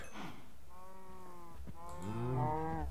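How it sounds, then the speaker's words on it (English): Cows mooing in the Minecraft video game, several drawn-out bovine calls in a row, the second louder and overlapping, with no talking. "let me just kill the cows because they make a lot of noise"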